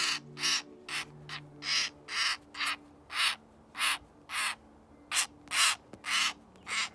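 A rescued baby bird gives a run of about a dozen short, harsh calls in a steady rhythm, fairly close, over a faint background hum, with no talking.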